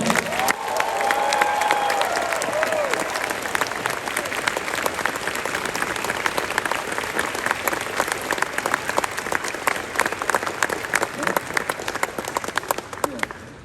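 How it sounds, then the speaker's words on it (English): A large convention audience at closing ceremonies applauds and cheers for the staff, with dense, loud, continuous clapping and crowd noise filling the whole stretch, a few whistles and shouts rising early on. "Could I please get an applause for all of them?"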